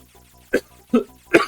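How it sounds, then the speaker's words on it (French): Three short, sharp coughs in a row, evenly spaced and close by, with quiet in between. "Excusez-moi, j'ai toussé."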